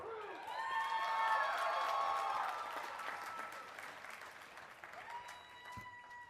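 Commencement audience at a college of environmental design ceremony applauding a singer, a dense sustained clapping with a few whoops that swells loud early then gradually thins out.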